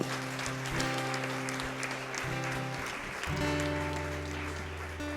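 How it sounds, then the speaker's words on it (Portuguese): A church congregation claps steadily over sustained keyboard chords, the applause swelling and continuing for several seconds. "Você pode aplaudir o Senhor"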